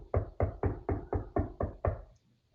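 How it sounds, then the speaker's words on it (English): Eight firm, evenly spaced knocks on a door, acted out while a story is being told. The strikes are close, dull and resonant, arriving at a steady quick pace with no talking over them, and the last ones taper off slightly. "She knocks a little bit harder."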